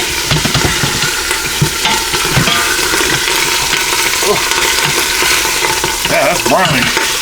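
Lemon garlic marinated pork tenderloin browns in an Instant Pot with a loud, constant sizzle and repeated scraping and clinking of a utensil stirring the meat.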